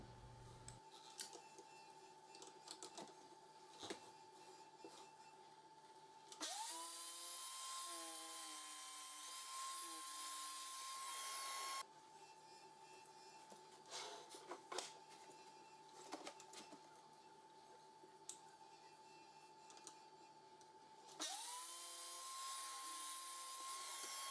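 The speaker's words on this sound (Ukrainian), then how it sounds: "налаштовую торцювальну пилку і, згідно відміток, роблю пропил" A miter saw spins up twice, its motor whine rising into a steady high tone as it cuts wood, with quieter workshop clatter between the cuts.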